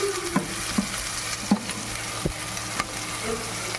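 Ginger garlic paste frying with coriander and curry leaves in a hot pan: a steady close sizzle, broken by several sharp stirring knocks and scrapes of a spoon against the pan at irregular intervals.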